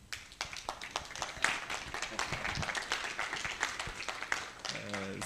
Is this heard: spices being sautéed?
no